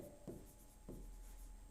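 Marker or chalk strokes on a board while writing out the gamma function during a lecture, three brief scratchy bursts spaced apart, faint and close against a low room hum.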